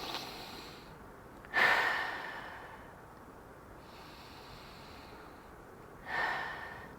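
A person breathes out during an evening Pilates stretch and wind-down: two soft, breathy exhales a few seconds apart, close and quiet over a faint background hiss.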